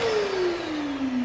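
A Sippon BJC2021 steam vacuum cleaner runs with strong suction, giving a steady close motor whine whose pitch slowly drops, over broadband airflow hiss, with no talk.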